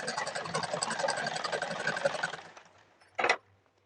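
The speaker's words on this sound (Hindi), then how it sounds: "यहाँ पर हम सिलाई लगा रहे हैं" A sewing machine stitches a seam with a half-inch margin on pajama fabric, giving a fast, even mechanical whir for a few seconds, then a pause and a brief final burst of stitching.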